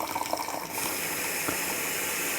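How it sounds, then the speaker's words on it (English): Water pours steadily over a big slab of compost in a Welsh cottage garden, a continuous close splashing and trickling that starts softer and settles into an even, full gush. "what you do is you just put this into the water and watch it grow"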